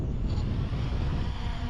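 Wind buffets a microphone outdoors during test flights of a Diatone Roma F7 drone, a steady broadband rush and rumble with no talk, lasting under two seconds.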